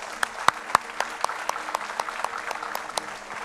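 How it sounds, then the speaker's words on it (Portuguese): A church congregation claps in a steady rhythm, evenly spaced sharp claps about four per second, fairly faint and somewhat distant, continuing throughout. "Se você ama Jesus, dá um forte aplauso para Ele, porque Ele merece."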